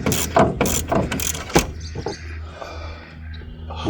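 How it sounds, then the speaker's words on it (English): A ratchet clicks rapidly in quick bursts while loosening a strut bolt on a car, close and loud, then slows into softer clicks and faint mechanical rattling. "let's put the ratchet on there. It just keeps going and going."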